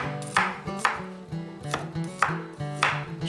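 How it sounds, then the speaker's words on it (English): A knife mincing garlic on a cutting board gives a run of close, uneven chopping thuds, about a dozen knocks over a few seconds in a loose, rocking rhythm, with no talking. "we're going to mince up our garlic"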